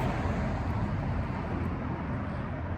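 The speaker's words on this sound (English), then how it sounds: "See, here comes the car." A single car passes on a road, a steady broadband wash of tyre and engine noise at moderate distance that holds evenly across the short stretch with no voices over it.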